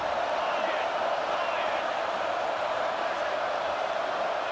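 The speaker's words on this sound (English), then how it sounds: "And here comes the noise. This crowd is trying to inspire this defense to make a big red zone stop." Football stadium crowd in a college football video game roaring steadily and loudly throughout, a dense, unbroken wall of noise.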